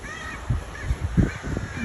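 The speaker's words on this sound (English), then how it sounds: "A very noisy crow up there." Outdoors, a crow caws a few times from up high, distant and fairly faint over a steady background hum.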